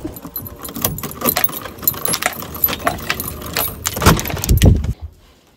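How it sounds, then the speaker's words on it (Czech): A bunch of keys jangles and clinks repeatedly at close range, shaken and rattled in uneven bursts for several seconds before a final louder shuffle and silence. "Klíče se našli v košíku, je to dobrý."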